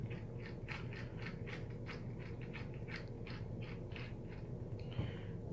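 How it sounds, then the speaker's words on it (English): A screwdriver backs screws out of an Acer Aspire ES 15 laptop screen bezel, giving quiet close ratcheting clicks and small mechanical ticks in a steady run. "All we need to do is just take these screws out."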